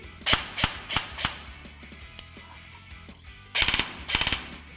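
Airsoft BB gun with a V2 gearbox fitted with an FC-40 fire-control board, firing semi-auto: sharp, loud single shots in quick bursts of three, a quiet mechanical pause with small clicks, then two more clusters of rapid shots.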